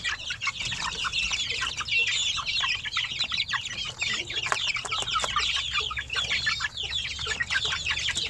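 Young chicks and chickens, some one to a month and a half old, cluck and cheep busily all together, a dense continuous chorus of chirps with occasional wing flutters and no talking.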